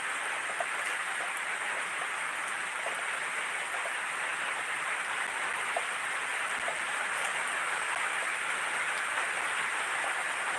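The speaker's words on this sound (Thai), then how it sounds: "ก็ดูบรรยากาศฝนตกไปก่อนนะครับ" Steady, moderate rain falls in a rural setting, a continuous even hiss with scattered faint drop ticks throughout, no voices over it.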